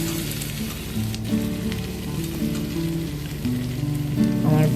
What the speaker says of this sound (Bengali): তোমরা সবাই ক্যাপসিকামটা কিন্তু সবার শেষে ফ্রাই করবে